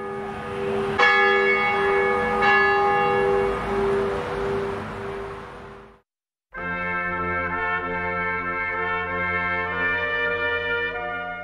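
A 1,500-pound, 36.5-inch bronze church bell, cast in 1873 by the Henry McShane Bell Foundry in Baltimore, strikes twice with a long shimmering decay, then rings out again after a brief cut to silence, loud and alone.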